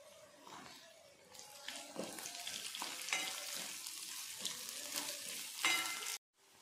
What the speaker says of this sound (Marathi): आता शिमला मिरची टाकते बारीक केलेली